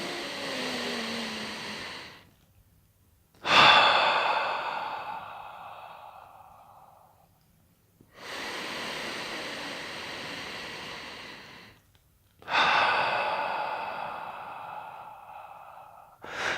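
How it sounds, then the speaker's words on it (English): Deep breaths drawn in through the nose and let out through the mouth, close and clear: several long, airy inhales and exhales, each a soft rushing sigh with short pauses between. "the best idea is to breathe through your nose, out through your mouth. That's the standard way. So let's practice that. Do a few deep breaths like that."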